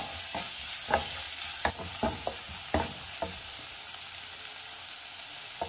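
Crushed shallots and curry leaves fry in a pan for a Kerala green plantain curry, with a steady sizzle broken by sharp stirring scrapes and knocks at irregular intervals, close and clear.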